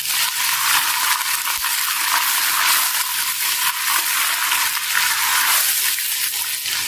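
Ginger garlic paste, about one and a half tablespoons, sizzles as it hits a hot pan of rice pilaf or biryani base, giving a constant loud frying hiss with faint stirring clinks and no talking.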